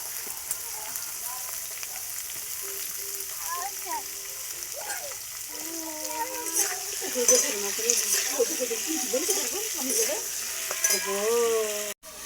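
Potatoes frying in a pan give a steady, quiet sizzle throughout, with faint stirring and scraping noises toward the end and a voice speaking now and then over the cooking.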